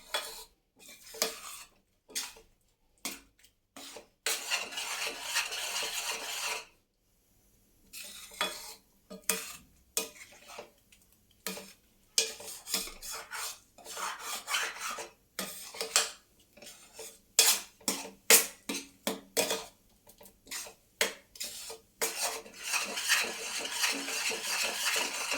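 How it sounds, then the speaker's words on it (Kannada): A spoon or spatula stirs egg rice in a pan, giving repeated close metallic scrapes and clinks in uneven bursts with short pauses between them. "ನೋಡಿ, ಈ ಥರ ಹಿಂಗೆ ಆಡಿಸ್ತಾ ಇರಬೇಕು. ಇಲ್ಲಾಂದರೆ ಫುಲ್ಲು ಅದು ಕೆಳಗಡೆ ಬಾಣಲಿನಲ್ಲೇ ಎಲ್ಲ ಅಂಟ್ಕೊಂಡ್ಬಿಡುತ್ತೆ"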